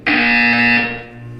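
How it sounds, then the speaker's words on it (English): A loud electronic buzzer from the Portal 2 video game sounds once as a steady harmonic tone for almost a second, then trails off into a fainter hum. "You will hear a buzzer."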